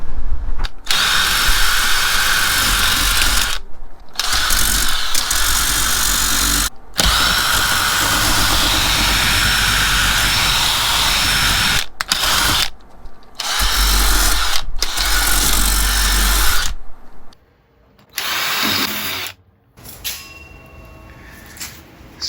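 A power drill spins a polishing pad attachment to strip rust and old paint from wood, a loud, steady whir running in long bursts broken by short pauses, then fading to quieter, intermittent work near the end.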